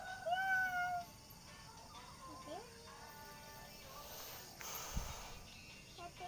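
A cat meows in short, clear cries at the start, followed by quieter mewing, with people talking nearby and background noise throughout.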